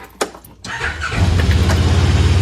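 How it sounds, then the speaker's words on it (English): A Kawasaki KRX side-by-side has its engine started up close. A brief click and cranking lead to a loud catch, and the engine settles into a steady, throbbing idle. "we're gonna go ahead and turn it on now"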